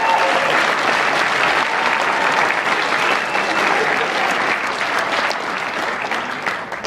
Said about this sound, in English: one final round of applause for the guests of Anime Detour 2014